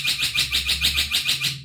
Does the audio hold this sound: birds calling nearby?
yes